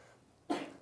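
A single short, sharp sneeze bursts out nearby against a quiet indoor background, lasting well under half a second.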